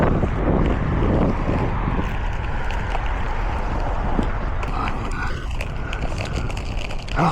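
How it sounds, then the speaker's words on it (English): Strong wind buffets the microphone outdoors while skating through an old city district, a loud, continuous low rumble with gusts throughout. "Man, it's gotten a lot windier all of a sudden."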